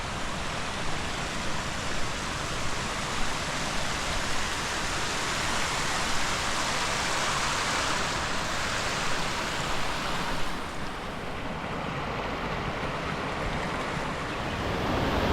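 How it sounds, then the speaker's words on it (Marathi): A large waterfall at Mahabaleshwar gives a steady, dense roar of rushing water that stays loud and unbroken throughout, with no voices over it. "हे बघा हा सर्व धबधबा आहे. परत तिकडे पण धबधबा खूप मोठा आहे."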